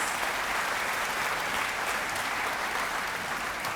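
A concert-hall audience at a band performance applauds those who have served in uniform, with dense, steady clapping from a large crowd that stays even and sustained throughout.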